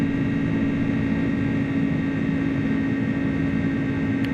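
Steady, unbroken roar of Pratt & Whitney engines on an iniBuilds Airbus A300 at climb power in a flight simulator, heard from the cockpit with a constant tonal hum and no talk.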